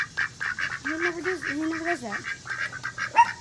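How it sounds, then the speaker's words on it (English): Ducks quack and honk in quick repeated bursts close by, while a person speaks briefly over the calls. "my ducks keep chasing me"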